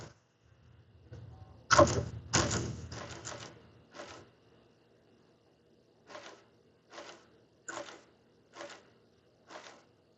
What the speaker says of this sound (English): it's activated when you push the paper in and activate the switch there behind the staple head